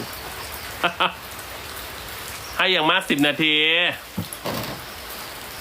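Steady rain falls outdoors as a continuous wash of noise throughout, with people talking in Thai over it and a few brief knocks.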